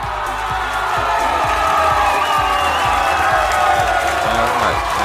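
Crowd cheering and shouting at a Cincinnati fan gathering, with music playing, a dense continuous roar of voices and whoops throughout, loud and steady.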